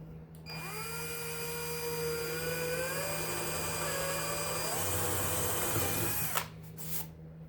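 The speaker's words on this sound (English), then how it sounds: "So I'm going to drill down." A power drill whines continuously for several seconds, its pitch rising and shifting as it bores, then stops abruptly with a clunk.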